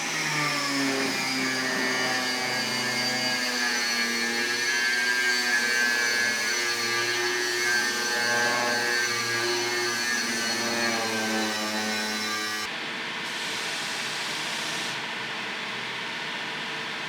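A power tool trims a fabricated metal engine mount plate for an Astra H VXR time attack build, producing a steady, loud, high-pitched grinding whine that runs continuously, then drops in tone near the end.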